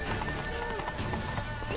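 A horse galloping in Witcher 3: Blood and Wine, quick rhythmic hoofbeats under a busy mix with voices talking over the run.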